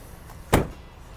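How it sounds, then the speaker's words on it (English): A rear passenger door on a 2014 Ram 1500 Big Horn 4x4 pickup gives a single short, firm thunk midway through an otherwise quiet moment. "These doors open up nice and wide so your passengers can easily get inside this truck."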